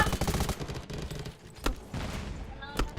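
Sharp, loud gunshot cracks in the zombie shooter game Radiation Island, with several quick reports close together, scattered across the clip among other game noise and an excited talking voice.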